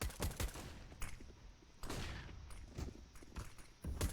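Gunshots in the video game Counter-Strike: a few sharp, loud shots in quick clusters with brief gaps between them, near and punchy, with faint footstep-like shuffles in between.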